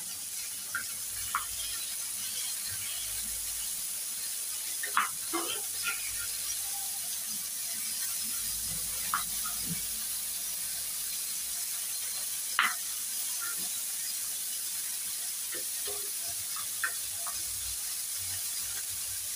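Rava-coated bombil (Bombay duck) fish frying in a pan, a steady soft sizzle throughout with occasional sharp pops and crackles, close and fairly quiet, no talking.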